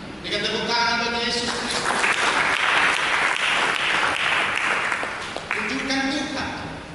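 A church congregation claps loudly and steadily for several seconds, the sustained applause swelling and then fading, with a voice and music heard at the start and end.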